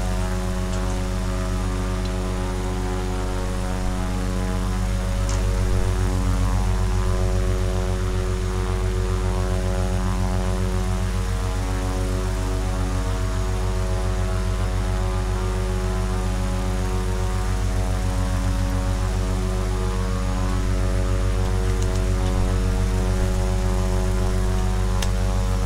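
A Cessna Caravan's turboprop engine in Microsoft Flight Simulator holds a steady, loud cockpit drone with layered propeller harmonics, unbroken and unchanging for the whole stretch, with no one talking.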